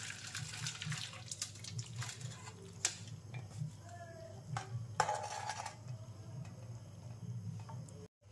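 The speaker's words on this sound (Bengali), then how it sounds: "এবার জলটা ছেঁকে নেব।" Hot water strained off boiled Maggi and chowmein noodles in a kitchen, a steady watery pour and splash running for several seconds with a few sharper clinks and knocks, fairly close, no talk.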